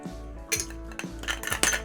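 Ice cubes dropped into a glass while mixing a cocktail, several bright clinks and rattles in quick succession over a steady low hum, close and fairly quiet.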